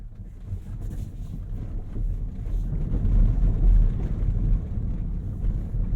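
A Rivian R1S three-row SUV driving over a rough dirt road: a low, rumbling rolling noise with buffeting wind and bumpy thuds that build toward the middle, with no talking.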